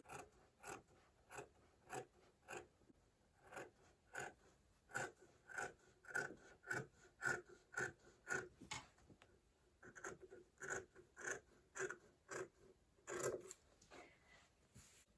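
Scissors snip through fabric along a marked line while cutting a full circle sleeve, a steady series of close, crisp cuts in a regular rhythm with no talking.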